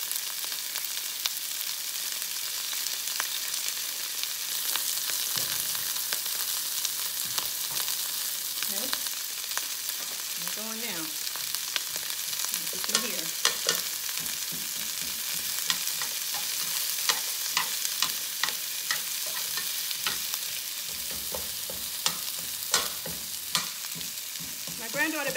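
Short ribs searing in olive oil in a pan, a steady close sizzle and spatter throughout, with occasional scrapes and clinks of a utensil, fairly quiet and with no speech.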